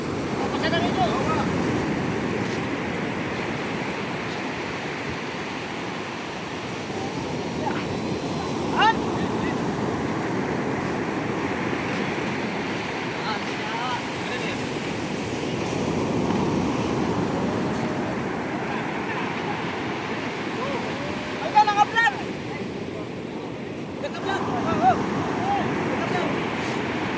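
Big ocean waves surge and wash continuously around a boat out at sea, a loud, broad roar mixed with wind buffeting the microphone, with brief knocks and distant voices now and then.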